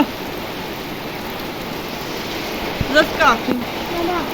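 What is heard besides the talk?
gentle quiet rain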